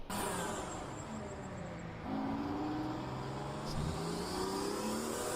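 Group 5 race cars from the 70s and 80s, a BMW M1 chasing a Porsche down the Norisring straight in a racing video game, engines revving loud and continuous with rising gear pulls and shifts.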